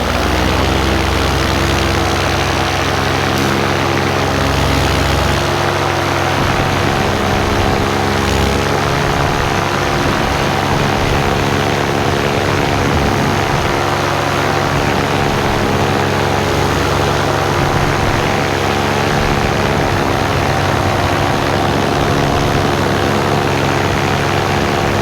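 Paramotor engine and propeller during a powered paragliding flight over Manistee beach make a loud, close, unbroken buzzing drone with steady propeller hum throughout.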